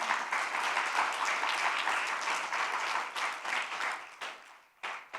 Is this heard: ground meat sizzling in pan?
no